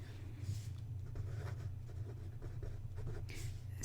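Black 05 pen drawing a tangle pattern on a paper tile, soft close scratching strokes in quick, uneven bursts over a low steady hum, quiet and without talk.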